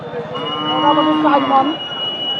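A beef cow lowing at the Boshunia cattle market, a single loud, drawn-out moo close by, with market chatter faintly underneath.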